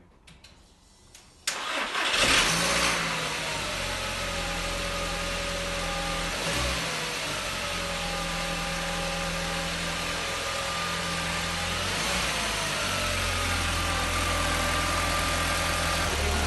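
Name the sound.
Audi TT engine starting and running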